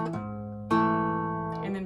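An acoustic guitar fingerpicks the pattern for a song, with ringing plucked notes and a fresh re-picked chord midway through. Close, clean and solo, with no voice.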